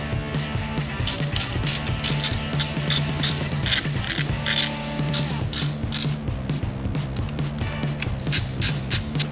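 A homemade thread cleaner is screwed by hand into rusted bolt holes on a Harley Sportster, giving a repeated ratcheting click in quick, uneven bursts over a low mechanical rattle, close up and without speech.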